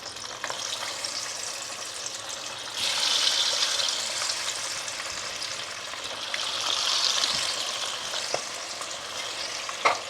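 Chicken pieces fry in sunflower oil for chilli chicken, a close, steady sizzle that swells louder twice as pieces are added or stirred, with occasional light clinks and no talking.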